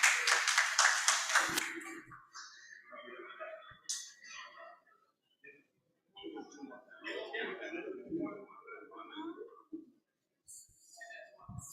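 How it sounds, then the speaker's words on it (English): Brief clapping from a few people at a cooperative's annual general meeting, heard for about two seconds near the start, followed by a speaker talking with short pauses and a light chuckle. "A round of applause for her."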